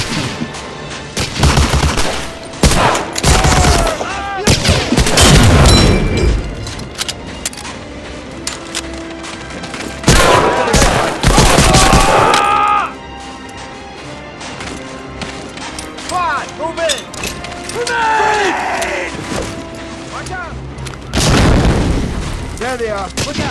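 Gunfire and explosions in the World War II shooter Medal of Honor Allied Assault, North Africa level, with loud booming blasts, bursts of rifle and machine-gun fire, and soldiers shouting between the volleys.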